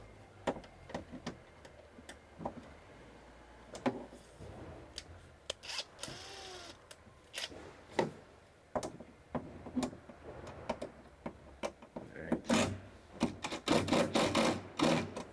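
A 7/16 wrench tightens a bolt while a Clam X400 Thermal XT ice shelter is assembled, giving close, sharp metallic ticks and clicks in irregular bursts that grow busier toward the end.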